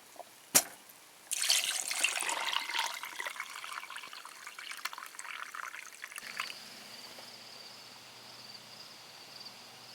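A sharp click, then a wet tumbler loaded with stainless steel pins churns with a loud, busy watery rattle for about five seconds. After that it drops to a faint hiss and a low hum.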